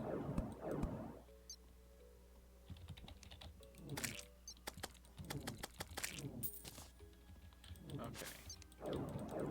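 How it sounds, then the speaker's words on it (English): Rapid, frantic clicking of a computer mouse while playing Terraria, a dense run of sharp close clicks in bursts with short pauses, a voice talking between them. "the rapid and frantic clicking of"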